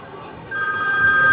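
A telephone bell starts ringing after a brief quiet moment, then keeps going as a loud, steady, bright trill until the end.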